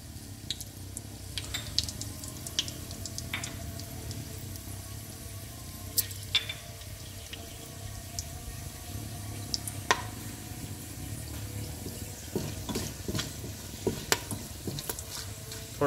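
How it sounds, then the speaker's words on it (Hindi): Whole spices such as bay leaf and garam masala sizzle in hot oil in a pan for keema, a steady close frying crackle with scattered pops and occasional stirring scrapes, no talking. "अब थोड़ी सिजलिंग जो है वो तेज़ हो गई है।"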